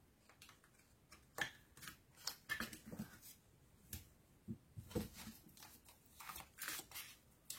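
Tarot cards are shuffled close by in soft papery riffles, flicks and slides that come in uneven bursts at a low, quiet level, with no speech over them.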